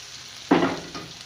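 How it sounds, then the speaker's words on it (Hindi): Garlic tempering for kadhi pakora bursts into a sharp, loud sizzle as it meets the hot oil, then settles into a fading crackle within a second. "बस इसको आपके सामने बघार कर दूँगी इसका, हमारा लहसुन हो जाए।"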